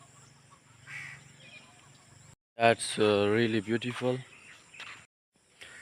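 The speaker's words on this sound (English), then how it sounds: "Birds are sitting and chirping" Birds calling from trees at sunrise, bright repeated chirps and clucking calls at moderate distance, mixed with a person speaking briefly.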